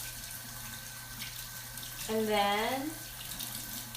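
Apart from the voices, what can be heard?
rinsing makeup brushes under running tap water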